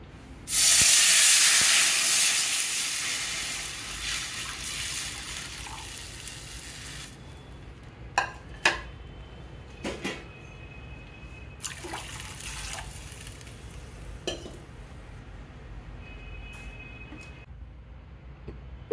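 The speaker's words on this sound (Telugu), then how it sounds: "వాటర్ బాయిల్ అయినాయండి" Water for semiya kesari bubbles in a pot on the stove, opening with a loud steamy hiss that fades into a steady simmer, broken by a few sharp clinks.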